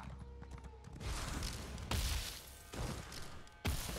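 Horse hooves in the video game The Elder Scrolls Online, heard as several heavy thudding footfall bursts recurring in a loose rhythm over a background of ambient game sound.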